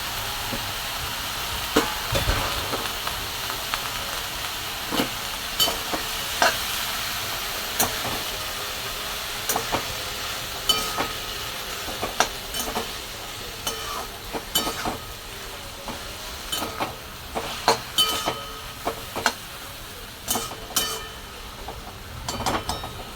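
Fenugreek leaves (methi bhaji) stirred in a pan with browned onion and tomato, giving a steady hiss of sizzling broken by irregular scraping and clatter from the stirring spoon.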